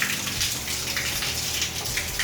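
Shower running steadily in a stall at an Ohio Turnpike service plaza, a continuous hiss of low-pressure water spraying and splashing, close and even throughout with no talk.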